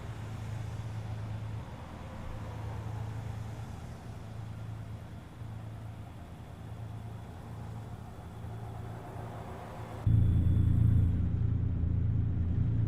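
A simulated truck engine in American Truck Simulator rumbles steadily while cruising a Montana highway, a constant low drone that suddenly grows louder and fuller near the end, with no voices.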